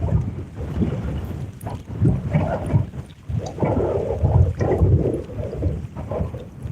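Strong wind buffets the microphone in heavy, rumbling gusts that rise and fall continuously, loud and close, on the Illinois River, with no voices.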